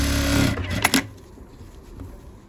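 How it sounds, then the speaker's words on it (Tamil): Sewing machine running a dummy tacking seam on a pattupavadai, a loud steady motor whir that stops partway, followed by a couple of sharp clicks and quiet handling. "ஜாயின் பண்ணிவிட்டு ஒரே அளவாக வர மாதிரி டம்மி தையல் போட்டுக்கோங்க"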